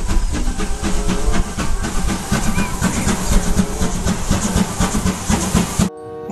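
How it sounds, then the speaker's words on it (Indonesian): Toy Thomas train letting off a continuous steam hiss over rhythmic clickety-clack chugging, close and fairly loud, running steadily for about six seconds before stopping abruptly. "Kereta Thomas."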